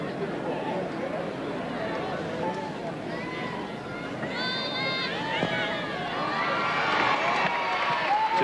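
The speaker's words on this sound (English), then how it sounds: "The crowd yelled for that tackle" Stadium crowd at a 1981 rugby league match between Cronulla and North Sydney roaring and yelling after a tackle, a broad, distant swell of voices that builds toward the end, with a commentator talking over it.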